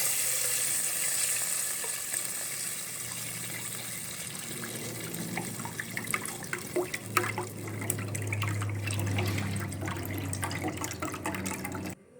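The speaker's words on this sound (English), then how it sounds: "Now to the same pot with the same ghee just now, I'm going to add in 1 liter of milk." Milk, about a liter, poured into hot ghee in a cooking pot for semiya payasam gives a steady sizzling, bubbling wash with liquid splashing, loud and continuous with no talk.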